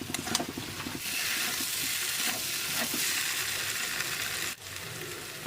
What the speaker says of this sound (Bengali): ফুলকপি দিয়ে আরও 1 মিনিটের জন্য নাড়াচাড়া করে নেব।